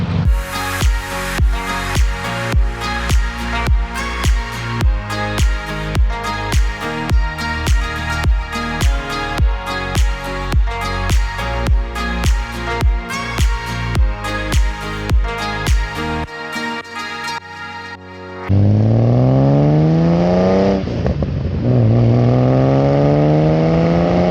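A Porsche 930 911 Carrera engine revs up and down in rising and falling sweeps near the end, loud and close, after a long stretch of steady rhythmic pulsing.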